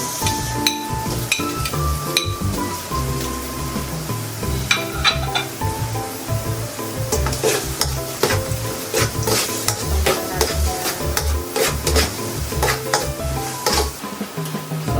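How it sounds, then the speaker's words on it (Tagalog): Garlic and onion sauté in a pan for creamy chicken sopas, with a steady sizzle and occasional stirring scrapes, partly buried under continuous background music. "Lagyan natin ang ating bawang. Lagay ko na rin yung ating sibuyas."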